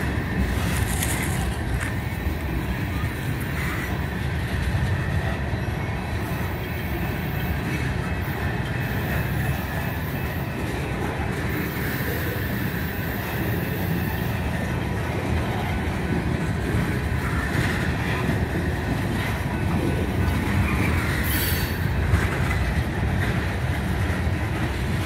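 A freight train of tank cars rolling past, a continuous low rumble and clatter of wheels on rail heard at a moderate distance, steady throughout with faint occasional higher squeals.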